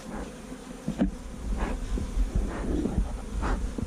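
Honey bees buzz steadily around a hive that recently swarmed, a continuous close droning hum with occasional louder passes as individual bees fly near.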